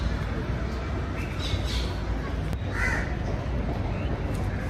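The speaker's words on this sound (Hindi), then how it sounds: "ये परिंदों की आवाज़ें बहुत अच्छी लगती हैं" Crows cawing outdoors on a sunny afternoon in Islamabad, a few distant calls rising over steady background ambience.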